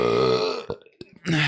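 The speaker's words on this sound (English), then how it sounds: "I feel like this is going to be a compilation of me burping." A loud, drawn-out burp from a man streaming a Team Fortress 2 reaction session, followed by a brief pause, a few small mouth sounds and the start of a voice.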